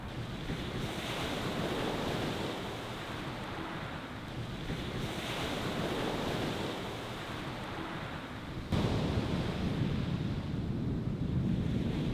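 Strong wind roaring across the microphone by the sea at night while fishing for squid, with crashing surf beneath, a steady broadband rush that swells louder near the end.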